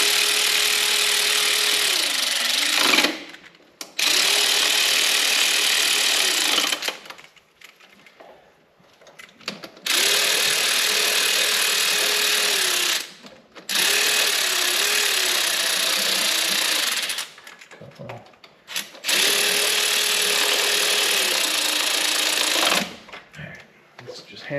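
A power tool drives coil pack bolts into an engine, running in several sustained bursts of about three seconds each with brief pauses between, loud and close, with a steady pitched whine.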